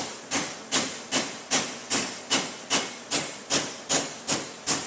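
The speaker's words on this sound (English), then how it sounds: "Now all I want to do is just gently hammer that over." Repeated hammer blows gently bending over a metal lip while building drives and cleats, about ten evenly spaced sharp metallic strikes with a hissy ring, close and alone.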